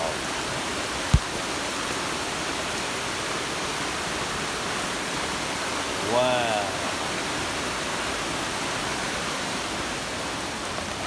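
Flash flood water rushes in a steady, loud broadband roar, carrying debris during a June storm in Bloomington, Indiana, with a sharp knock near the start and a brief voice exclaiming midway.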